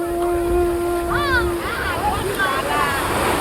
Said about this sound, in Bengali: তো প্রচুর ঢেউ দিচ্ছে।